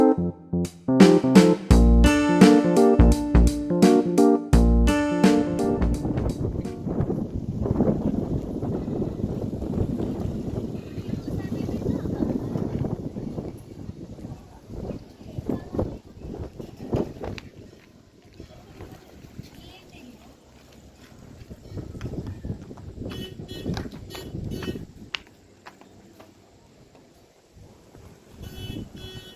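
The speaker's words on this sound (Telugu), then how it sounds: "సో వింటున్నారు కదా చల్లటి గాలి సౌండ్ ఎంత" Cool breeze on a hilltop at Sanghi in the evening, gusting wind buffeting the microphone in rough bursts, with people talking over it and a short stretch of music at the start.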